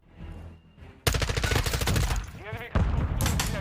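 Rapid automatic gunfire from the video game Modern Warfare II, loud dense bursts after a quieter start, with a brief pause before another burst.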